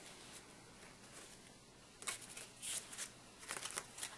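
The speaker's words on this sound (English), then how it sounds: "He gave me his pack of cards and I shuffled them, and then I gave them a fancy cut" Soft riffling and snapping of a pack of playing cards being cut in a fancy flourish, faint at first and then a few quick, close card slaps near the end.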